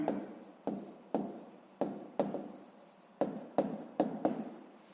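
Pen or pencil scratches on paper as math is written out by hand for a sixth-grade exercise, a series of close, sharp strokes with short pauses between them.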